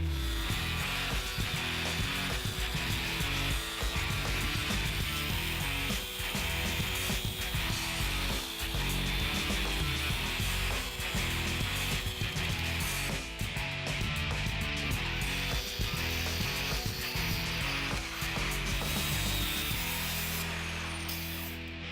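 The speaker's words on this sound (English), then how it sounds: "So a lot of grinding, a little cutting, some fun stuff." Metal grinding and cutting on a Jeep as a bracket is removed in a garage, a dense, continuous power-tool roar that runs loud and steady the whole way through with no talking.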